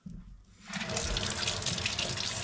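Tap water runs into a sink as fish is washed under it, a steady hissing splash starting after a brief handling noise, close and loud with no talk.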